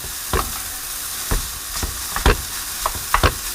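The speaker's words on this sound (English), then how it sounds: "I'm just going to start from stirring from the bottom, stir up and over, up and over, up and over" Fried rice sizzles in a pan on high heat, with a steady frying hiss broken by separate scraping stir strokes as a spatula turns the rice up and over, close and fairly loud, with no one talking.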